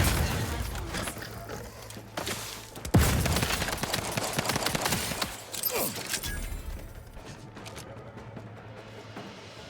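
In The Outer Worlds 2, a grenade goes off as a sharp blast near three seconds, set amid rapid gunfire and impacts, with a voice heard speaking during the fighting.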